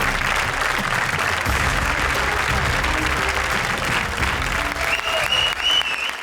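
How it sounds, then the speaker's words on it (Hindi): A studio audience on a Hindi TV comedy show applauds the top-scoring pair, a dense, steady burst of clapping and cheering that holds at a loud level for several seconds. "तालियां हमारी टॉप स्कोरर जोड़ी के लिए"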